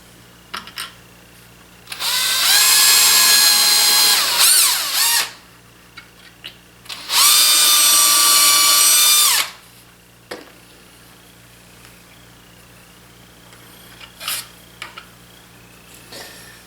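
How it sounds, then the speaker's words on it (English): Two loud bursts of a power drill whining at high speed drilling pilot holes, each lasting a few seconds, separated by a pause with faint clicks and handling noises. "I got to drill a couple of pilot holes here."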